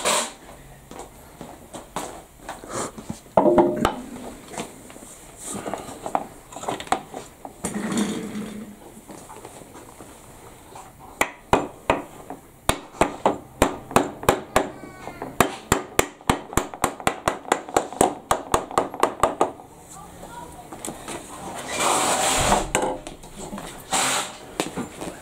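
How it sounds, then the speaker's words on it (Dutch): Metal hammer blows ring out during work on a Ducati Monster 796 motorcycle while brake discs are being fitted, coming in irregular bursts and then a fast run of sharp, loud strikes, with occasional clatter and background noise between. "Dus ik hamer"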